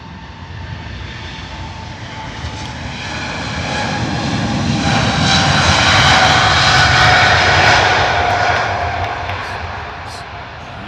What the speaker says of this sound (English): Power set and rolling, those big old G90 engines getting powered up